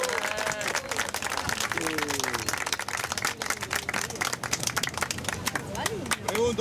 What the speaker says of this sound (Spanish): ¿aplauden porque les gustó o porque llegamos?